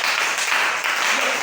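An evangelical church congregation bursts into a short burst of dense, steady applause, many hands clapping together at close range.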